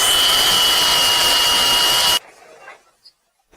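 Loud, steady high-pitched whine of a power drill running for about two seconds, then stopping abruptly, followed by a few faint clicks.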